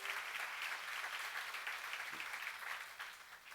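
An audience at a church seminar claps steadily for a few seconds, a dense and even patter of applause with no voices over it.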